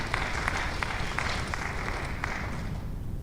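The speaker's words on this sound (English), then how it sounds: "So big round of applause for the operations and our technology team." Steady applause from an audience at a school safety and security presentation, a moderate, even patter of clapping with a few sharper claps standing out, fading slightly at the end.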